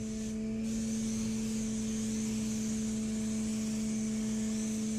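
Steady hissing spray from a paint spray gun applying sealer to a car hardtop runs continuously with a low constant hum underneath, no voices, a fine misty sound throughout.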